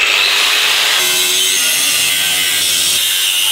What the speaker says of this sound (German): Weiter geht's mit der Flex.